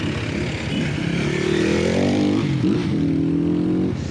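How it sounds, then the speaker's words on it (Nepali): A new Pulsar 125 motorbike passes close on a mountain road toward Muktinath, its engine note rising and shifting steadily over several seconds, loud and continuous. "पल्सरको नयाँ 125 बाइक यही हो"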